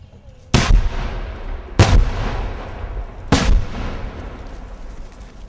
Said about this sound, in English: There'll be about a 15-foot fireball at about 30 feet.